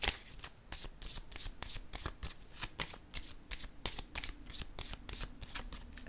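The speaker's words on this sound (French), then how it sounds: "Je vais piger une autre carte pour cette zone." Tarot cards are shuffled by hand in a quick, close, steady riffle of crisp rapid flicks, with no talking over it.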